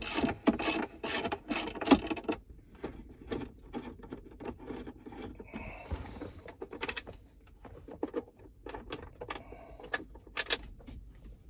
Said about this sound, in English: Just gonna loosen them using the ratchet wrench, and then I'm just gonna take them out by hand.